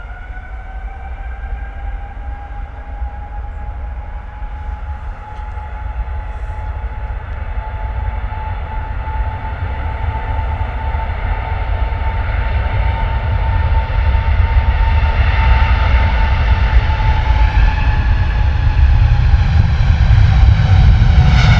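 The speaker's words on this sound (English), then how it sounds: "Look at those big old engines, eh? Look at them, just monstrous." A large jet airliner roars on takeoff at London Stansted Airport, a loud, steady engine rumble with whining tones that builds louder toward the end, with no talking.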